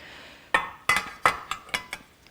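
Metal pans, a frying pan and a saucepan, clink and clatter together, six or so bright ringing knocks at uneven intervals, close and distinct with short metallic decays.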